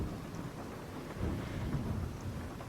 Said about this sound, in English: Just making sure that this home is doing okay in this storm.